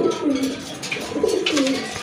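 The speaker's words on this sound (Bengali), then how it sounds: "আরেক জোড়া গড়া কবুতর" Chuithal pigeons kept for sale coo in a steady, close, rolling rhythm, with repeated throaty coos filling the whole moment and no talk over them.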